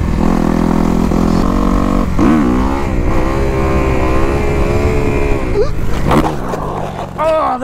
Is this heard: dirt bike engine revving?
yes